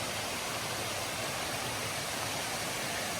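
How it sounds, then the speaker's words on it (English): Waterfalls and a clear stream in a Bali jungle at Tegalalang near Ubud pour as a steady, dense rushing roar, unbroken and close, with no voices. "So many different waterfalls, a really clear stream."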